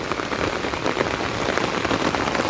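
Heavy monsoon rain pours down in Dombivli, a dense, unbroken roar of drops striking surfaces close by, loud and steady throughout with no voices.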